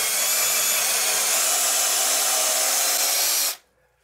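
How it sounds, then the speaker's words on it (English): A power drill bores into a fiberglass shower wall with a loud, steady high whine that runs unbroken for about three and a half seconds, then stops abruptly. "we're going to take the drill a little bit and we're going to drill that straight in"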